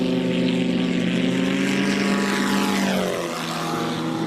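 Autogyro 3905 Romeo taxiing on a runway, a steady close propeller and engine drone with strong tonal harmonics that dips and shifts pitch briefly near the end, no talk over it.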